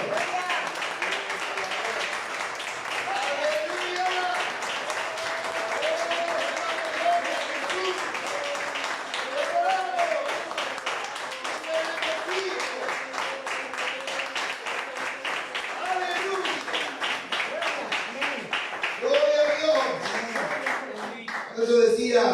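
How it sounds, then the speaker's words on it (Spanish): A church congregation during a Sunday sermon gives sustained applause, a continuous wash of clapping lasting over twenty seconds, with a voice and musical tones riding over it. "Dale un fuerte aplauso a Jesús, nuestro Señor."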